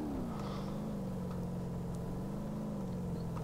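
Car driving on sand in BeamNG Drive: a steady engine drone with a smoothly wavering pitch that holds throughout, like a vehicle cruising at constant effort, with no speech.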